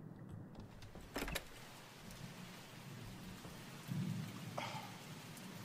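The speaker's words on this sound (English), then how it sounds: "Fucking rain scared me, bro." Steady video game rain hisses continuously, broken by a couple of sharp thunder cracks and low rumbles.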